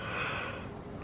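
A woman yawns in one long breathy exhale lasting about a second, close and loud, with no talk over it.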